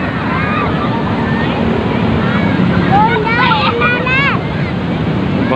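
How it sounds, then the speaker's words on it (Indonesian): Large ocean waves roll and crash at Karapyak beach in Pangandaran, West Java, a steady loud wash of surf with wind buffeting the microphone while someone talks over it. "Ombak yang besar, lebih besar lagi ini, guys."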